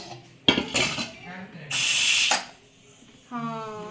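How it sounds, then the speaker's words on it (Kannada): Dal with tomato being stirred in a metal cooking pot, a few scraping, clinking strokes of a spoon against the pot with a brief sizzling rush, close and fairly loud, with a voice speaking briefly at the end. "ಹಾಕಿದ್ರು ಈಗ ಫುಲ್ಲು ಮಿಕ್ಸ್ ಮಾಡ್ಕೊಂಬಿಡಮ್ಮ"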